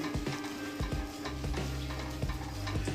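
Spices stirred in a pan over a low gas flame, a steady soft scraping and faint sizzle with periodic knocks of the spoon against the pan.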